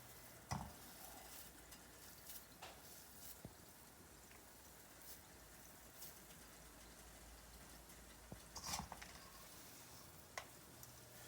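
Quiet, steady sizzle of muthiya dumplings frying in ghee over medium heat, with occasional clinks and a louder clatter of the spoon against the pan.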